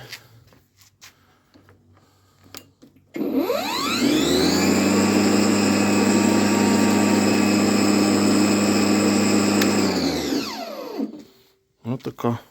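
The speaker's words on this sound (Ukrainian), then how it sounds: "там плавний пуск, значить, безщітковий двигун у нас" An Einhell GE-CM 18/32 Li cordless mower's brushless electric motor spins up smoothly with soft start, hums steadily at a high whine for several seconds, then winds down; brief talk before and after.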